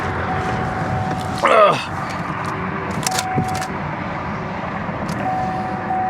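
A 2012 Chevy Cruze Turbo engine turning over with a brief whining burst, then settling into a steady, loud running rumble nearby.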